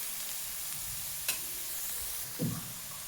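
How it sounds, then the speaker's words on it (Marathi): Fried onion being mixed with red chili powder and turmeric in a pan, a steady low hiss with one sharp utensil clink and a brief scraping stir near the end, close and quiet. "आता आपण टाकूयात लाल चटणी, हळद, छान घेऊयात मिक्स करून।"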